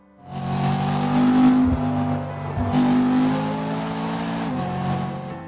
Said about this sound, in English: there is one good reason for keeping this V8. It's the sound it makes when you do this.